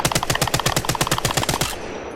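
Rapid gunfire from a weapon in the video game Apex Legends, a fast even burst of about fifteen loud close shots over under two seconds, then a brief fading tail.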